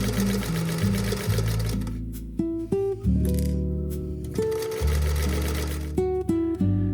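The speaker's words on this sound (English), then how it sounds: "stitching the fabric down its entire length to make a tube" A sewing machine stitching a long seam along fabric to form a tube, its motor whirring in loud bursts that rise and drop in pitch as it speeds up and slows, with brief pauses in between.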